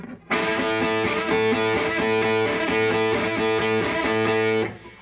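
A distorted electric guitar plays a quick repeating rock lick, steady rhythmic picking with a sustained bright tone, ringing out for several seconds before cutting off.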